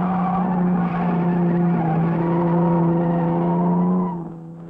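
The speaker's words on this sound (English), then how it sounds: "And here's our car, Cacciari's 2-litre Ferrari." A 2-litre Ferrari racing car in the 1953 Mille Miglia, its engine loud and close in a sustained high-revving roar that fades away at the end.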